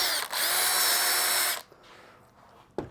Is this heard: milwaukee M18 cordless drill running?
yes